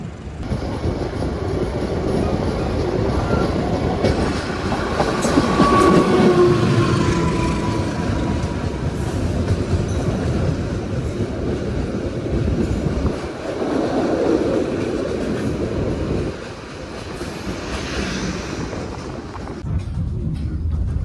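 The Sri Tanjung economy-class train rolls steadily alongside a station platform as it arrives, with a loud continuous rumble of wheels and carriages, a brief high wheel squeal, and occasional speech underneath.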